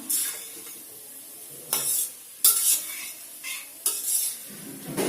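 Potato and cabbage curry with chilli powder being stirred in a pan, several bursts of spatula scraping over a low sizzle, the strokes separated by quiet pauses, close and without speech.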